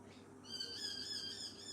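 Noisy miners, Australian soldier birds, squabbling in a fight, giving a steady run of harsh, high, repeated calls that hold on for most of the moment at moderate distance with no talk.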